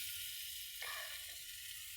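Chopped onion sizzles in hot oil in a pan as the base for an eggplant dish, a steady faint hiss with a brief louder burst as the onion is stirred.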